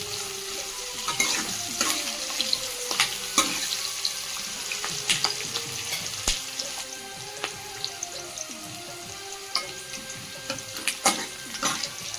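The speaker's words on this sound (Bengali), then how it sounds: "এখন লঙ্কা পেঁয়াজগুলোকে ভালো করে ভেজে নেবো" Steady sizzling of chopped chilli and onion frying in hot oil, with repeated scraping and stirring clicks throughout; close and fairly loud, no voices.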